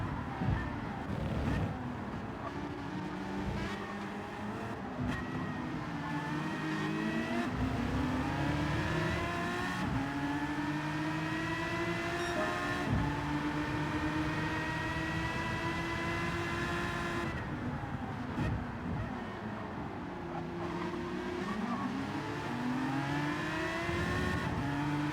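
Race cars in a racing video game climb through Eau Rouge and Raidillon at Spa Francorchamps, several engines droning and rising in pitch together through upshifts in a steady, continuous roar.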